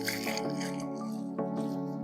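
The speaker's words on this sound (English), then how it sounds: "I'm going to water in what I have so far" Water pours into soil in a half-filled tree planting hole, giving wet squishing and dripping sounds with a few soft splashes, close and moderately quiet.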